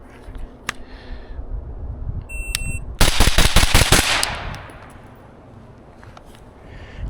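Pistol shots ring out during drills at an outdoor shooting range on a spring day: a few separate cracks, then a rapid string of sharp shots around the middle, with a timer beep and quieter range background between.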